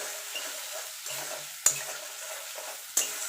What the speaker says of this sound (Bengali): দিয়ে ভালো করে একটু কষিয়ে নেব যতক্ষণ কাঁচা গন্ধটা চলে না যায়